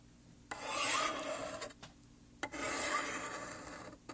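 Kitchen knife drawn along Spyderco Sharpmaker ceramic stones for a light touch-up, giving two long, fairly loud rasping strokes of about a second each with a short pause between them and no voices.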